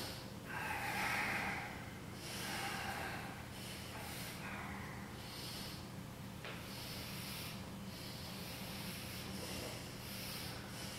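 Slow, steady breaths drawn in and out during a yoga bridge pose on a mat, close and fairly soft, with a breathier swell near the start and a continuous airy hiss throughout.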